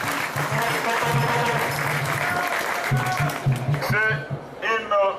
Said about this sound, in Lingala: si vous pouvez applaudir pour vous-même